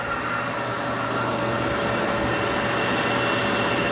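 A Kenmore bagless canister vacuum cleaner with a power head runs steadily and loudly at close range, a constant whooshing motor drone with a high whine throughout, with no voices.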